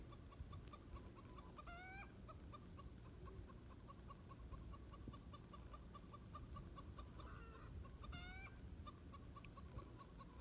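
A chicken clucks faintly in a run-down old house in the historic town of Al Ula. Soft, far-off clucks come in two short bursts over a steady hiss of background noise.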